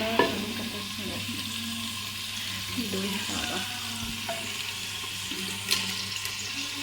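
Onions or aromatics being sautéed in a pan for a Punjabi white bean gravy: a continuous soft sizzle with light scraping stirs and a few clinks.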